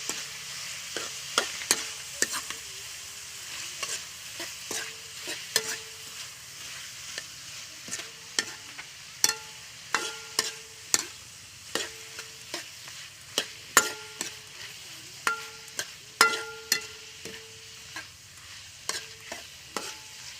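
Fried zucchini stirred in a pan, with a soft sizzle under repeated sharp scrapes and knocks of the utensil against the pan, uneven in rhythm and without talk.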